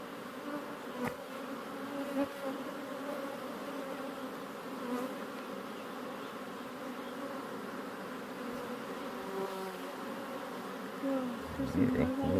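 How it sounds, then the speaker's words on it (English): Honey bees at an opened hive, a steady, close swarm buzz with wavering pitch as individual bees pass near, plus a few faint knocks and handling sounds, no talking. "Lots of bees."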